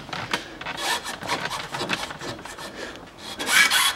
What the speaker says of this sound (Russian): совенблок умерший издает неприятные звуки